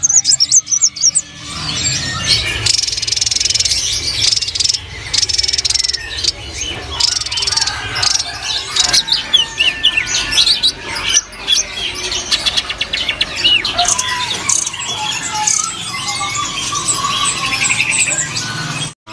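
A blue rock thrush sings loudly and close, with varied chirps, whistles and squawky notes running almost continuously over low background noise.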